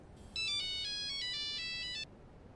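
A Nokia phone ringtone sounds from a Halo Reach game scene, a bright electronic tune playing loudly and steadily for about a second and a half before cutting off.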